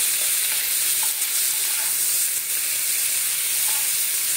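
Food frying in a pan in a home kitchen while being stirred: a steady, loud sizzling hiss with faint scraping of the spatula, continuous throughout with no talk.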